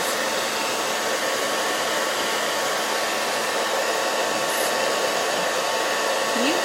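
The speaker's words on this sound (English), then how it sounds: "We're going to use our blow dryer right underneath the lashes." A blow dryer runs steadily and loudly at close range, a constant airy whoosh used just beneath eyelashes during a makeup application, with no talking over it.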